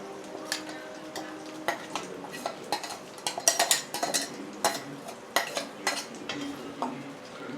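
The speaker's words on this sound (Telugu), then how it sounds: "ఎర్రగడ్డలు టమాటాలు నూనెలో వేసుకుని ఆ పేస్ట్ అయితే వేసుకున్నాం" An onion-tomato paste fries in oil for a cashew curry, a soft steady sizzle broken by frequent light spoon scrapes and clinks against the pan.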